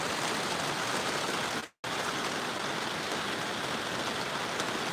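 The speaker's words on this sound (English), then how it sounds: "One last look at the rain, everybody." Steady rain falls in a dense, even hiss with a brief dropout near the middle, moderately loud and with no voices.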